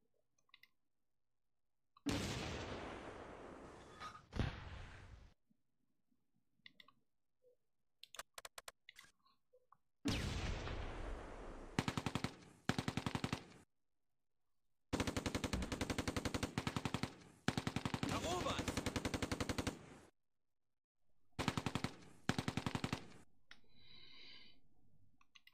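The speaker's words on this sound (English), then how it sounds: "Where's that mortar fire coming from?" Mortar and gunfire in a World War II tactics video game, Close Combat 2 Allied campaign: bursts of rapid crackling shots and explosions come in several separate loud volleys with silent gaps between them.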